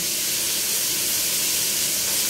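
Chicken pieces for Filipino adobo hitting a hot pan with plenty of garlic, giving a loud, continuous sizzle and hiss of frying throughout, close up with no talking.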